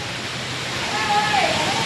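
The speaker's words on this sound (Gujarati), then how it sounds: "અહીંયા પણ જો પાણીના ફુવારા છે સરસ" Steady broadband rush of splashing water from a fountain at the Gadhpur Swaminarayan temple, continuous and fairly loud throughout, with a faint voice briefly audible.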